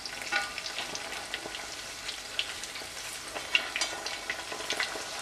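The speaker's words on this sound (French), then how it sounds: "En tout cas, ça fait un joli bruit de cuisson." Fish frying in shallow oil for Italian fritto misto: a quiet, crackly sizzle with many rapid tiny pops and spatters, close up, no voices.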